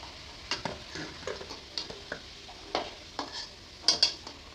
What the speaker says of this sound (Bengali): এবার আলুটা নেড়ে দিব